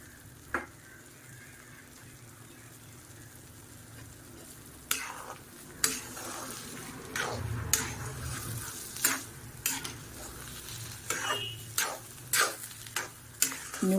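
Oil poured into a pan of frying Rava Kesari, a steady soft sizzle with repeated scraping strokes of a spoon stirring the mixture, growing busier and clattering as the stirring picks up.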